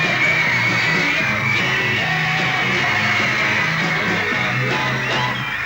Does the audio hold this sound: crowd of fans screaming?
yes